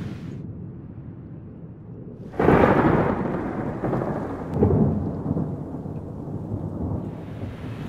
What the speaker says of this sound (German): Es donnert jetzt schon die ganze Zeit. Das Gewitter ist ziemlich nahe gekommen